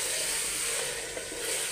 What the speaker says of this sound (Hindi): अच्छे से भूनना है इसको, अदरक लहसुन की महक निकल जाए और ये मसाला हमारा भून जाए